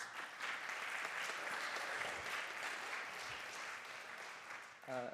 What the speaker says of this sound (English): So another round of applause for the staff members and the audience.